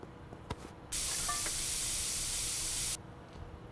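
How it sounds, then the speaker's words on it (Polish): A spray can in the Internet Cafe Simulator 2 video game lets out a loud, continuous hiss for about two seconds, then stops abruptly, with a few faint clicks before it. "Oj, znowu się spray skończył"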